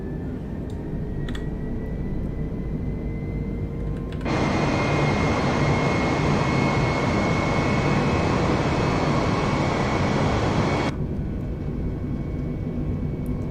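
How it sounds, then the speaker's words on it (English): Simulated Airbus A320neo engines spooling up to takeoff thrust in Flight Simulator 2020: a steady broadband roar that jumps louder at about four seconds, holds, then drops back to a lower rumble near the end, with no talk. "Takeoff thrust set."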